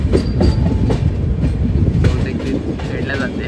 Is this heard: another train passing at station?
yes